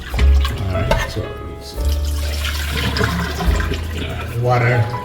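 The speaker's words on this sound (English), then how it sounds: "So I'm just draining off the excessive water, right?" Water drained off rinsed oxtail into a sink, splashing and gurgling unevenly with heavy low rumbles, loud and close.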